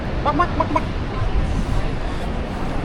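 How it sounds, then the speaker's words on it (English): Several short, harsh clucking calls from an ibis near the start, over steady outdoor city noise in Brisbane, Australia, and faint background voices. "They're called ibises, but actually they call them bin chickens."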